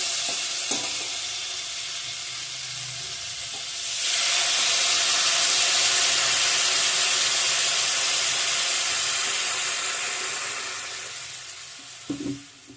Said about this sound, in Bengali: ঠিক আছে ভালো করে ফুটিয়ে নিই ঝোলটা